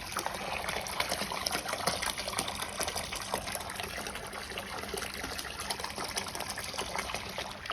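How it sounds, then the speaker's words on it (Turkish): Water pours steadily from the outlet of a Fluval FX4 aquarium canister filter, a constant close rushing and splashing trickle heard with no voices. "Köyün pınarından çeşmesinden su akıyormuş gibi bir hava var."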